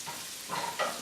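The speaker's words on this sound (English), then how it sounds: "Stir real quick." Mac and cheese in a pot gets a quick stir, producing faint scraping and soft bubbling sizzle over about a second, close but quiet, with no voices.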